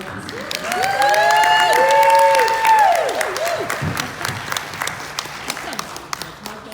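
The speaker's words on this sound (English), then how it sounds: "Please join me in a round of applause as Darlene comes up to share with us today as our guest speaker." Audience applauding a guest speaker at a workplace grief talk, a burst of clapping swelling and then thinning out, partly masked at first by a loud whistling, warbling tone.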